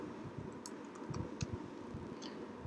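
Quiet, scattered key clicks typed on a Mac computer keyboard, a few light taps in quick bursts with brief pauses, close and soft.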